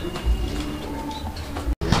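A white fancy pigeon coos in a low, soft rumbling run that continues for most of the moment, close by, before a brief dropout and a short resumption.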